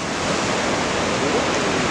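Ocean surf at Anglet breaks in a continuous broadband roar of waves, steady and fairly loud with wind noise on the microphone and no clear voices.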